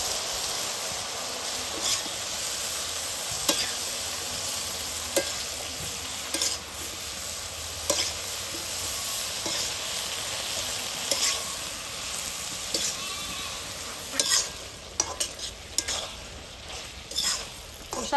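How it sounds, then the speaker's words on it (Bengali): Water lily stems seasoned with salt and chili powder fry with a steady, hissing sizzle in a village kitchen, broken by stirring scrapes and clicks that grow more frequent toward the end, with no voices. "শাপলা সুন্দর কষানো হয়ে গেছে।"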